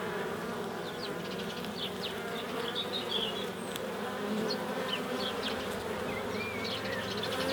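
Honeybees buzzing in an open beehive, a dense continuous drone of many bees close up, steady throughout with occasional louder individual buzzes passing near, no talk.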